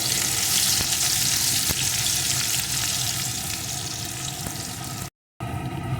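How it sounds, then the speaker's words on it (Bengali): Chopped onion fries in oil for a pomfret mustard curry, giving a loud, continuous sizzle with faint clicks of stirring, broken briefly by a gap near the end. "এখন এর ভিতরে দিয়ে দেবো একটা পেঁয়াজ কুচি পেঁয়াজ কুচিটাও একটু ভেজে নেব"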